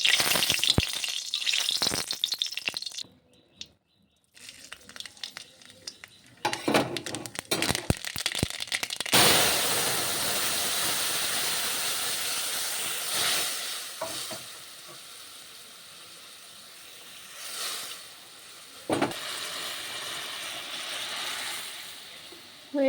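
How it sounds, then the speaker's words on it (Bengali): Dried chili and mustard seeds sizzling in hot oil in a well-used, blackened wok as a tempering for sour dal. Loud crackling and popping come first, with gaps, then a sustained hiss with a few later bursts. "গরম তেলের মধ্যে এবারে একটা শুকনো লঙ্কা ফোড়ন দেওয়া হলো আর এবারে দেওয়া হবে সর্ষে ফোড়ন"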